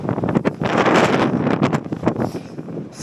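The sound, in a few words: strong winter storm wind on Blencathra mountain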